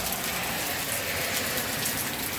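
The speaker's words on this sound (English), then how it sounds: "it's raining really, really hard" Heavy rain pouring down hard on a Sunday afternoon, a dense, steady hiss of countless drops that stays loud and unbroken throughout.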